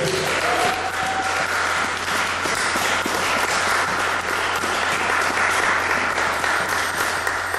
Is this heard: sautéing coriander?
no